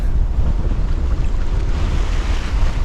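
Strong wind buffets the microphone in a constant roar while waves wash and surge underneath, loud and close throughout, on a sailboat at sea between Tongan islands.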